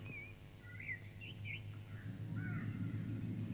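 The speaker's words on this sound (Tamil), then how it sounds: "காக்கா!" Several short bird calls, fitting a crow's caw, sound at mid distance over a steady low background hum that grows slightly louder toward the end.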